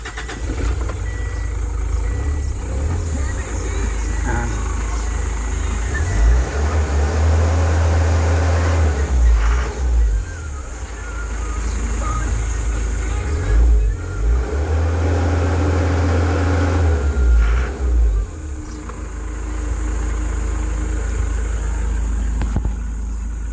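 A car engine runs steadily and revs up twice, each rev swelling for a few seconds before settling back to idle.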